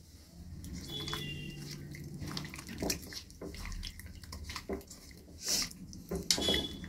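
Small whole khoka ilish fish being mixed by hand with mustard oil and spices in a bowl, giving soft wet squelches and light clinks against the bowl throughout, close and moderately quiet.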